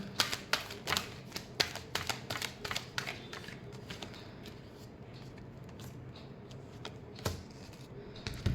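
Tarot cards being shuffled by hand, a run of crisp riffling bursts and soft slaps close up in a quiet room, thinning out toward the end with a few last snaps.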